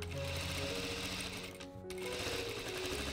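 An industrial sewing machine fitted with an elastic shirring foot stitches fabric with a loud, steady, close mechanical whir. It dips into a brief pause midway and then resumes at full speed.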